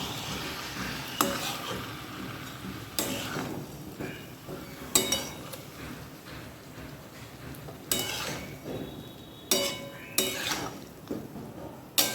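Spice masala is stirred and fried in a pan for a chicken dish, with a spoon scraping and clinking against the metal in irregular bursts over a low, steady sizzle.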